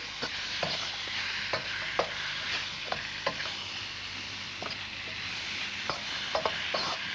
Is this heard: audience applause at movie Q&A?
no